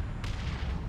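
Artillery fire from a Manticore rocket strike in the Dawn of War 2 real-time strategy game, a dense rumbling barrage of booms with a sharp burst partway through, loud and continuous over the whole moment.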